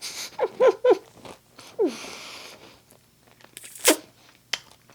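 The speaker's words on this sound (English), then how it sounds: "You hear that crunch?" Crisp bites into a homemade nut-free, gluten-free keto Oreo-style sandwich cookie packed with cream, a few sharp crunches close to the mic followed by a later louder snap, with brief quiet between them.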